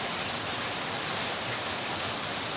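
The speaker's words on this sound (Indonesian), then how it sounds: "Ada hujan." Steady rain falling, a dense, even hiss of drops on surfaces that continues without a break, fairly loud and close, with no voices.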